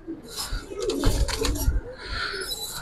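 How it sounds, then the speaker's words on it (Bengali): Red patti pigeons at a pigeon seller's coo close by, with a few soft, throaty coos overlapping among faint rustling and scuffling. "লাল পাত্তি কবুতর ভাই"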